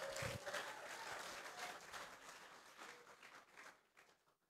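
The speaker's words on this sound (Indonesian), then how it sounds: "Tepuk tangan buat Tuhan kita dong" A church congregation applauds God, starting loud with dense clapping and a few cheers, then gradually thinning and fading to scattered claps.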